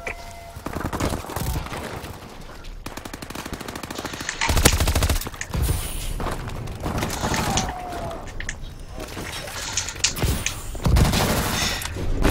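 Rapid video game gunfire from a featured gun, dense bursts of automatic shots with sharper single cracks scattered through, loud and continuous throughout.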